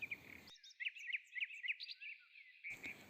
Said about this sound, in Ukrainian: Прислухайтесь до пташиного хору в лісах, парках, садках.